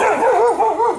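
A household dog gives a single sustained, close and loud bark-yelp that wavers in pitch, heard alone without any talking.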